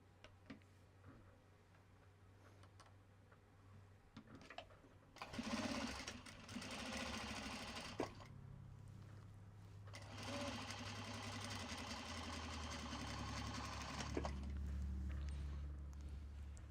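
A sewing machine chain pieces fabric pockets for a Japanese-fabric Kato drawstring bag, running in two long bursts of rapid, even stitching, separated by brief pauses and quiet handling ticks.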